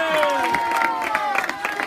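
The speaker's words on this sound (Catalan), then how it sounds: "Un aplaudiment, molt bé." A crowd in a Sant Celoni town square breaks into loud, sustained applause and cheering with dense clapping, close and steady throughout.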